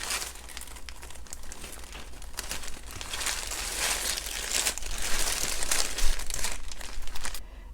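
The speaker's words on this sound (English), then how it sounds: "Let's go ahead and open up the bag." A jewelry treasure bag being opened, with crisp crinkling and rustling of plastic packaging close to the mic, continuous handling noise that grows busier toward the end, then stops abruptly.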